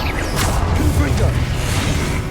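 The Confringo fire spell is cast in Hogwarts Legacy, a dense burst of whooshing and crackling blast sound layered with game effects, loud and close, under a voice speaking.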